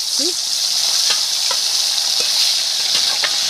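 Hot oil sizzles in a pan over a wood stove, a steady bright hiss running throughout with a few faint clinks and scrapes, fairly close and even, no talking.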